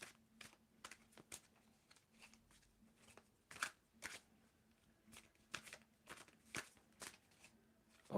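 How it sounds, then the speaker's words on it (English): Tarot cards are shuffled in a quiet room during a reading, giving a series of soft, crisp riffling bursts at an irregular rhythm with short pauses in between, close to the listener and fairly faint. "Tell me when to stop shuffling, Akanksha."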